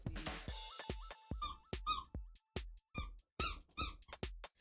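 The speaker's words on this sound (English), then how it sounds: "He won't stop squeaking the damn toys." A dog chomps a squeaky toy over and over, sharp rubbery squeaks in uneven bursts of one to three, fairly close and clear, with a faint steady tone running underneath.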